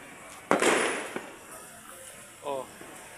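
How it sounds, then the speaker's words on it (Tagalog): New Year fireworks outdoors: one sharp nearby bang with a crackling burst trailing off, a lighter pop after, then a brief voice-like sound at the end. "May fireworks display."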